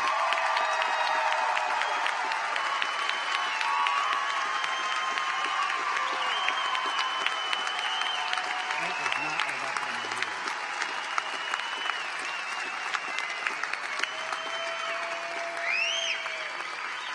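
A large graduation audience applauds continuously, dense steady clapping filling the hall with scattered whoops and cheers near the end.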